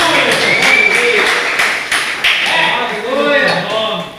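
Congregation clapping in a church service, a burst of scattered claps and taps with voices talking over them throughout.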